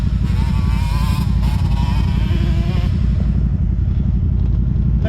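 Engine of a stock-clutch Can-Am ZForce 950 side-by-side running in high range, two-wheel drive, a loud steady throbbing drone with rising and falling revs, close by and continuous with no talk.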